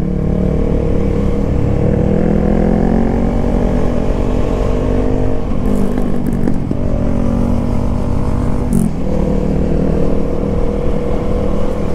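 Kawasaki Z900 motorcycle engine running loud and steady, a continuous close rumble with slight swells in pitch, heard alone without talk.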